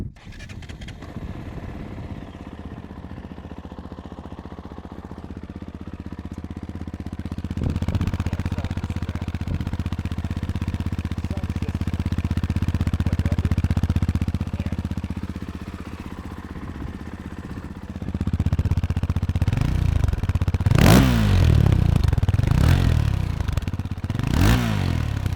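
A Fantic Caballero 500 Rally motorcycle's single-cylinder engine idling steadily, then rising in a couple of blips and revs with mechanical clatter, heard close by and alone.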